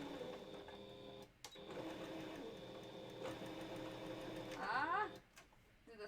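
A home sewing machine stitches a seam on a wolf balaclava, its fast, steady mechanical whir running quietly for several seconds before a brief change in pitch and a stop, with faint background noise.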